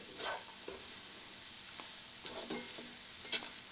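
Beef and cabbage sauté in a pan for a stir fry, giving a low, steady sizzle broken by a few soft scrapes and clicks of stirring, with no voices.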